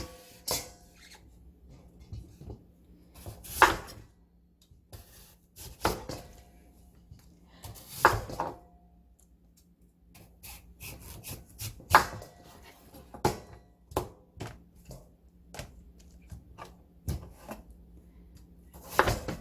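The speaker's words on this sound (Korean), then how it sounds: "얇게 조금 조그만하게 썰으셔서 깍둑 썰기로 그냥 해주세요" Kitchen knife chopping radish into small cubes for kkakdugi on a cutting board, clusters of sharp close knocks in irregular bursts with quiet pauses between.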